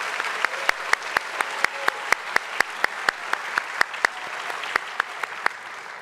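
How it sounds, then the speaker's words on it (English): Sparse, rhythmic clapping rings out at a school honor society induction ceremony, single sharp claps spaced evenly like a small group or one clapper keeping a beat, fairly close. "Let's give them a big round of applause for that."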